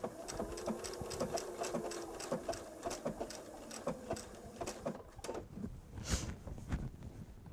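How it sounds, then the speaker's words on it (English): A sewing machine stitches a blanket stitch along the edge of a bench pillow, its needle thumping in quick, steady bursts with short pauses between runs, close and fairly quiet. "Last blanket stitch we have to do today."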